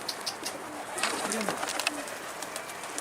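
A pigeon coos outdoors as it comes in to land, the soft call rising briefly over steady background noise.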